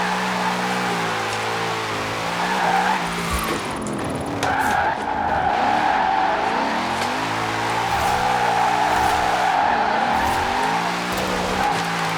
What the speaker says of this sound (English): pulling the e-brake, giving it throttle, purposely drifting.